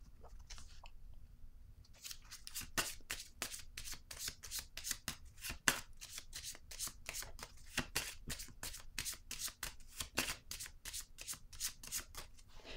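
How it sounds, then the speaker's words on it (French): A deck of oracle cards being shuffled over and over, a steady run of crisp, close riffling slaps and flutters with no talk over them. "je vais piger une carte sur le guide"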